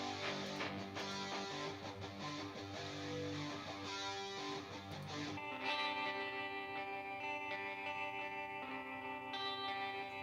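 Chunky distorted rhythm electric guitar in a positive power rock production track, dense chugging chords with effects, steady and loud, shifting to brighter sustained tones partway through, no voices.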